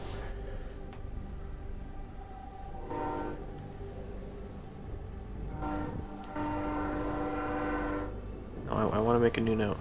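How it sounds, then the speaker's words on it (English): A train from Call of Duty Black Ops 6 rumbles past with a horn-like tone, steady and fairly close, mixed with game sounds and a voice speaking near the end. "There go the train."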